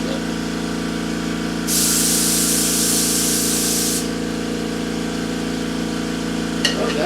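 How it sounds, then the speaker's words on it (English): An airbrush spraying paint onto a 1/350 Polar Lights Star Trek TOS Enterprise model, a bright hissing burst of about two seconds over the constant hum of a running compressor, close up with no talk. "Most of that I'm going to have to hit with the airbrush to get in all the deep crevices"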